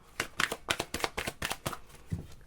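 Tarot cards are shuffled in a quick series of crisp riffling bursts, close and clear, with no talking.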